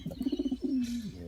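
A pet dove coos close by: a quick series of soft, rhythmic pulsing coos, then one longer, drawn-out coo that slides down in pitch.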